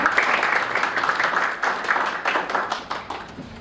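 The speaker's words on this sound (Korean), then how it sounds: "박수로 맞아주세요." Audience applause fills a Korean sports awards ceremony, the 2023 Futures Star Awards, as a speaker is welcomed to the stage; steady, dense clapping from a sizeable crowd, moderately loud and continuous with no talk over it.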